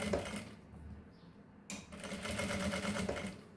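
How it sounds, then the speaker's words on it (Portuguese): A sewing machine stitches synthetic fabric under its presser foot. It whirs and chatters rapidly with a fast, steady mechanical rhythm, close up, and breaks off briefly partway through before running again. "Aí eu coloco o sintético embaixo e vou passar uma costura com esse mesmo calcador, tá?"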